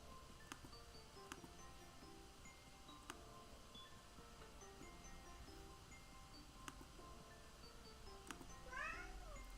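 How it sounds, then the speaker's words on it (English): A house cat meowing indoors near the end, one short rising-falling meow after a long stretch of quiet room tone with faint ticking. "I have a cat that just keeps meowing"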